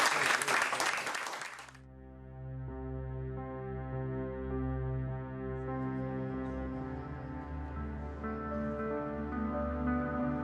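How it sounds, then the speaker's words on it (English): A short burst of audience applause at a film promotional tour event fades out within a couple of seconds and gives way to sustained, droning harmonic tones. "Please give another round of applause to the"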